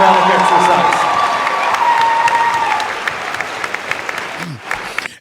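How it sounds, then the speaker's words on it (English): Liberal supporters clap and cheer at a Justin Trudeau town hall, a dense, steady wash of applause from a nearby crowd that thins over the last couple of seconds, with a few voices rising above it. "all these Liberal supporters are clapping and cheering as if Trudeau did something wonderful and phenomenal"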